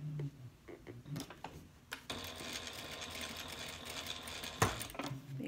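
A sewing machine quilting the exterior panels of a handbag: a few short stitching bursts, then a sustained steady mechanical whir close up, ending with a sharp clack.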